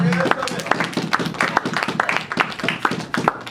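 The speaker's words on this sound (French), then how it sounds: "Can you clap your hands?" Church congregation clapping hands during a bilingual French and English service, a sequence of sharp, roughly rhythmic claps mixed with voices.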